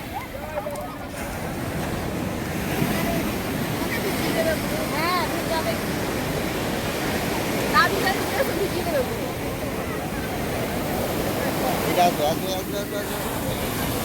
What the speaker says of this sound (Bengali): সমুদ্রের ধারে এসে পৌঁছালাম সমুদ্রের সেই অসাধারণ ঢেউ